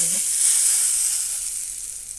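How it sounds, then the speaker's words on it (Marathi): A hot mustard-seed, asafoetida and turmeric tempering hits the chutney with a loud, bright sizzling hiss that swells quickly and then slowly fades over two seconds. "आणि ही खमंग फोडणी चटणीवर घालूया"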